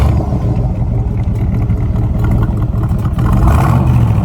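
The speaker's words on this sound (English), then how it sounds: "the rumble is what we care about" A 1965 Chevrolet Corvette Roadster engine idles loudly and close, a deep rumble with a rough, pulsing texture and a brief rise in revs near the end.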